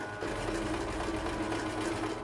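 Sewing machine fitted with a zipper foot stitching piping close to its rope cord, a steady continuous needle whir running near and loud throughout without pause.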